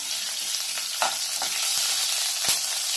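Asafoetida, curry leaves and green chillies crackle and sizzle in hot oil for kanda poha tempering, a steady hiss punctuated by sharp pops and a few clicks of stirring.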